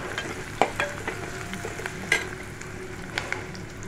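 Ginger and garlic sauté in a pan of hot oil, giving a steady close sizzle broken by several sharp clicks and scrapes of a stirring spoon, with no voices.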